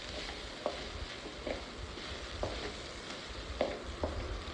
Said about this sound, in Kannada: ಸೊ ಎಲ್ಲ ಕ್ಲೀನಾಗಿ ಮಿಕ್ಸ್ ಮಾಡ್ಕೊಳ್ಳಿ ಎಲ್ಲ ಅನ್ನದ ಜೊತೆ